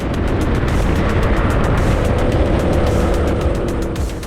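A racing kart engine howls loud and steady on the final lap of an EKS race, its high-pitched drone holding close and constant with rapid buzzing pulses throughout.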